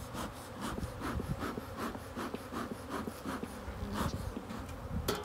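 Honey bees swarm around an open hive, their dense, steady buzz filling the air with close passes of individual insects rising and fading, alongside faint scrapes of hive frames in early spring.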